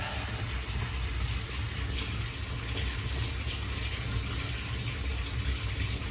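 A newly fitted tap runs steadily, water gushing and splashing into a bath at a constant close rush with no pauses.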